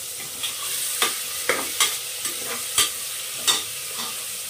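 Soaked chana dal roasting in a pan, a steady sizzle under repeated scraping and stirring strokes of a spoon at an irregular pace, close and without talk.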